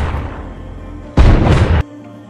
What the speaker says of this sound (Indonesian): Mendengar ada tembakan,